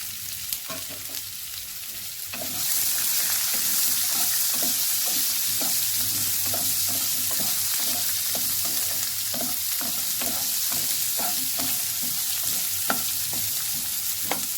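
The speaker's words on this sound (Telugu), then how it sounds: "ఇప్పుడు ఉల్లిపాయలు వేసుకోవాలి కట్ చేసిన ఉల్లిపాయలు వేసుకోవాలి" Chopped onions hit hot oil in a pan and burst into a loud, steady sizzle after a quiet start, with frequent light taps from a stirring spoon throughout.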